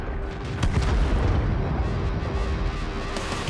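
A tank destroyer's gun firing in a tank video game, one deep booming shot with a rumbling tail, heavy and close, fading into a low background rumble.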